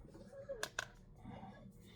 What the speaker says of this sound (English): hold it in my hand, cut it with my snips